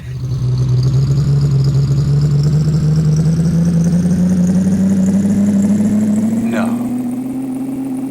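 Steady truck engine drone from the PC racing game Big Rigs: Over the Road Racing, a loud continuous hum that climbs slowly in pitch and holds throughout, with no talk over it.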